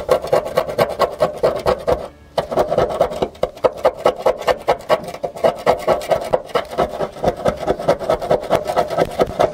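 A screwdriver scrapes rust off damaged car bodywork during a makeshift body repair, producing loud, close, rhythmic scraping strokes with a brief pause early on.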